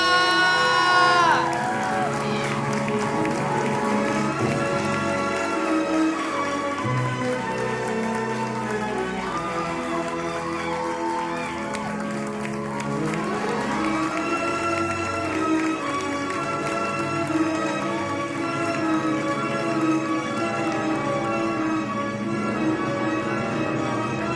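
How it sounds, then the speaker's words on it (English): Audience at the LACHSA high school fashion show applauding and cheering, a steady patter of clapping with shouts mixed in under loud music, continuing evenly throughout. "Please give a huge round of applause to Ella Corona!"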